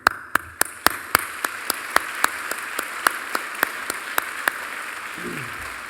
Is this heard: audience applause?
yes